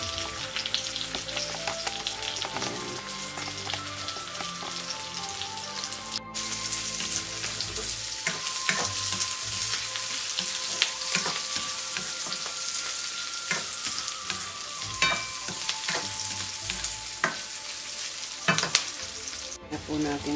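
Onion frying in a pan during vegetable cooking with zucchini, green beans and bell pepper, a steady loud sizzle throughout with occasional stirring clatter, no talking.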